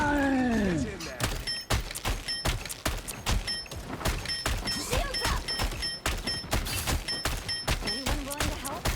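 Rapid bursts of gunfire in the Marvel Rivals video game, dense repeated shots with impacts and game effects, loud and continuous under commentary voices.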